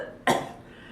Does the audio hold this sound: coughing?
yes